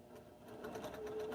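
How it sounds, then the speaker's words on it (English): A sewing machine stitches a quilt piece with the feed dog dropped, a soft, steady, rapid whirring hum building slightly in intensity, quiet and close. "So now I'm going to sew this piece."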